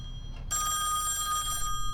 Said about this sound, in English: Damn telephones.